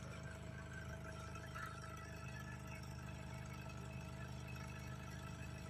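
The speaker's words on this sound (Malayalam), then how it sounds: "വണ്ടി നല്ല നീറ്റായി വളരെ യൂണിഫോം ആയിട്ടുള്ള സൗണ്ടാണ് വന്നുകൊണ്ടിരിക്കുന്നത്" A Chevrolet Sail engine, earlier troubled by misfire, runs smoothly with a steady, even idle drone, no stumbling or knocking, close and continuous throughout.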